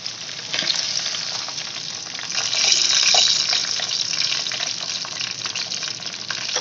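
Chicken pieces frying in a pan for a steam roast give a steady, loud sizzle that swells in the middle and keeps hissing throughout, with no talk.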